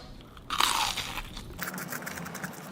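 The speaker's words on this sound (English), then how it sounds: "I think the crunch is going to be amazing too." A single crisp crunch as a fried Spam fry is bitten, followed by softer chewing, close up.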